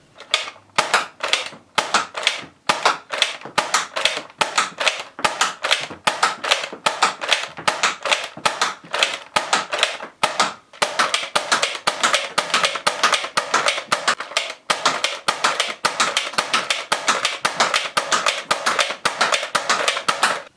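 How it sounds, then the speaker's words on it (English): A modified, minimized Nerf Lawbringer toy blaster firing repeatedly, producing dense rapid sharp plastic clicks and snaps in a steady run of shots, close and crisp with brief pauses between volleys. "now I'm going to cut to a short firing demo of the minimized Nerf Lawbringer"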